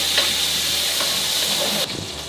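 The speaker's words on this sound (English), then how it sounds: "I'm gonna stir up this brownish meat." Browning meat sweetened with brown sugar and honey stirs in a hot pan, giving a steady loud sizzle with faint scraping strokes, ending in a slight drop in level.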